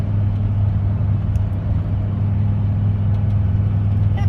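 A Dodge Ram V10 towing a camper up a big hill holds a loud, steady, low engine drone with a constant rumbling hum. There is no talk.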